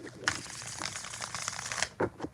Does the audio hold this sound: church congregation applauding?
no